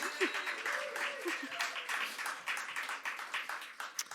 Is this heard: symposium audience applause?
yes